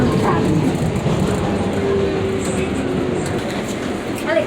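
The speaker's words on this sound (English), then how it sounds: "This is a Manhattan 7 local train." A Manhattan-bound NYC subway 7 local train rumbles steadily at 90th Street–Elmhurst Avenue, a constant low roar of wheels and motors with a faint squeal partway through.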